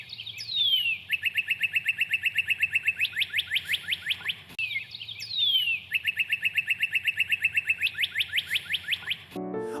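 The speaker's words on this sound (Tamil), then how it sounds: "ரெட் கார்டினல் பறவைகள் தனித்துவமான பாடல் சத்தம் வெளியிடும்." A northern cardinal sings two long phrases, each opening with slurred whistles and breaking into a fast run of loud, repeated chip-like notes, clear against a quiet background.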